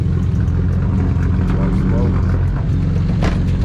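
A tuned BMW 335i with an N54 engine and a new turbo setup runs loudly and up close with a fault noise, a dense, steady rumble with rough, uneven texture throughout.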